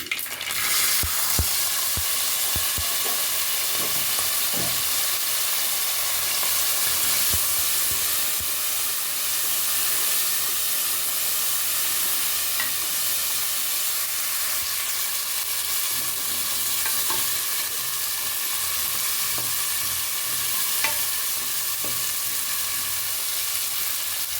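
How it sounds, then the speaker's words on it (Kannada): Green peas for sagu frying in an oily pan, a dense continuous close sizzle and hiss with occasional soft stirring scrapes, no voices. "ಇವಾಗ ನೋಡಿ ಬಟಾಣಿ ಕಾಳನ್ನು ಇವಾಗ ಹಾಕ್ಕೊಳ್ತೀನಿ"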